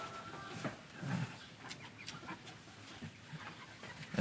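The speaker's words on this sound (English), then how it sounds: "Have you ever held a chicken before?" A hen held close in someone's arms gives a few soft clucks on a small farm, with one short louder burst among quieter scattered sounds and no talking.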